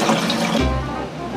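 Water pours into a cooking pot for a second rinse, a steady splashing gush that swells partway through and runs continuously, close and fairly loud with no talking over it.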